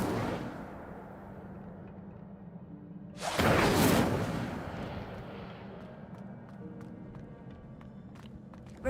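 Incendio fire spell cast in Hogwarts Legacy: a sudden loud whooshing burst of flame that flares for about a second, then tails off into a lingering crackle over a low ambient hum.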